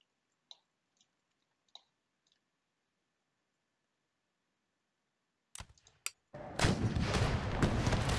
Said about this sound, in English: Let's use the demi cannon for something more productive.